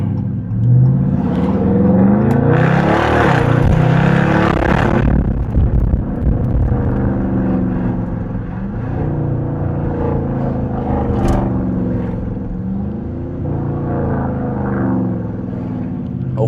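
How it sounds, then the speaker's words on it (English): A loud Holden RT car's engine drones and revs while driving, with rising pitch sweeps as it accelerates near the start and a steady rumble throughout, no talk. "my car is pretty loud."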